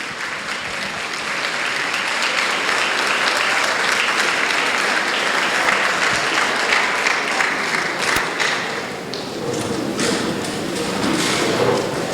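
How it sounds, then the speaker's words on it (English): A large audience at a council Women's History Month event gives volunteers a long, dense round of applause that stays loud and steady throughout, with a few thumps mixed in. "Let's give them a round of applause."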